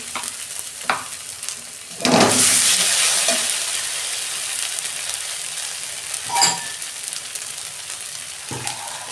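Dried chili paste hits a pan of cooked-down ginger and garlic for a fish curry, bursting into a loud sizzle with scraping stirs that slowly fades, then flares again with another stir near the end.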